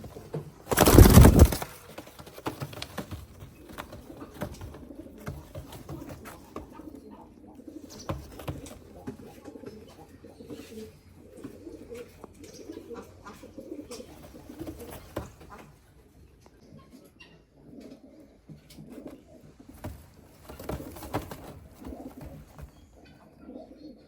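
Fancy pigeons, European banded birds in a loft, cooing in soft low repeated phrases, with a loud clatter or flap at the start and quiet rustling in between.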